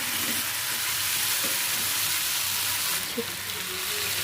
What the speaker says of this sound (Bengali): সমস্ত সবজিগুলোকে ভালো করে কষিয়ে নিতে হবে